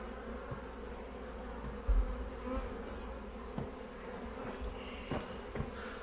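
Honey bees hum steadily around an opened hive during a late-March brood inspection, a dense continuous buzz close to the listener with occasional louder passes and faint handling knocks.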